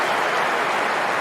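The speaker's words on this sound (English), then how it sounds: "they stand for applause in the 23rd minute of the" A stadium crowd at an AFL match applauds in tribute to Cam McCarthy during the 23rd minute of the first quarter, a dense, steady roar of clapping that stays loud and continuous throughout.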